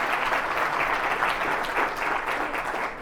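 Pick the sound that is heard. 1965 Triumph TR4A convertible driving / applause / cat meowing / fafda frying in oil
applause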